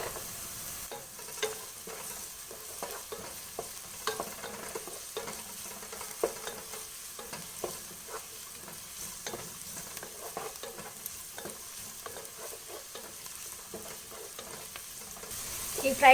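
Chopped carrots and other vegetables stir-fry on high flame in a nonstick pan for egg fried rice, giving a steady, fairly faint sizzle broken by frequent light stirring scrapes and taps, with no talk.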